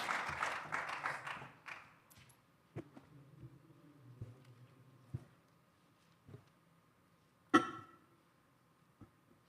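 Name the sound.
round of applause for the panelists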